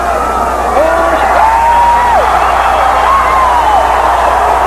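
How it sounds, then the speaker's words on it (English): A boxing arena crowd roars in steady cheer after a knockout at a WBO lightweight title fight, with a commentator talking loudly over the sustained wash of noise. "many of those who are cheering now are the ones who were chanting Jorge, Jorge in the first round"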